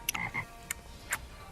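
Cane toad (Bufo marinus) giving a few short, separate croaking calls, fairly faint and close, with quiet gaps between them and no voices.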